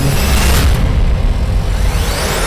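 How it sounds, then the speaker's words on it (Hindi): A Hezbollah anti-tank missile strikes an Israeli Merkava tank at a border point, and the impact becomes a loud, sustained rumbling blast with crackling debris, heavy and close, with no voices. "मिसाइल टैंक की तरफ बहुत तेजी से बढ़ती है और इजराइल के मरकावा में बहुत बड़ा धमाका होता है"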